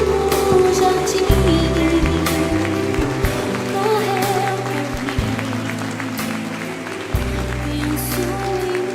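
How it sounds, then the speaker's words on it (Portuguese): A church congregation applauds in a dense, continuous wash of clapping that runs throughout, under music and a voice singing or preaching. "Aplaude o Senhor"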